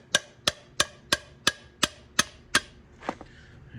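A hammer taps out a stuck valve on a Sattley 7hp hit-and-miss engine, with eight sharp metallic knocks at an even pace and then a couple of softer, duller taps.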